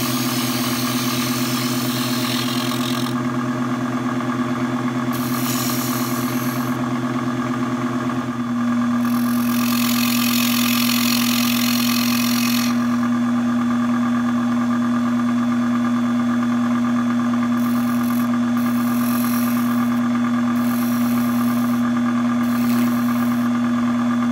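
A lathe motor runs steadily at 2160 rpm, producing a loud continuous hum with a strong tonal whine that shifts pitch as the speed rises partway through, plus intermittent hissy bursts from the spinning brass salt shaker work.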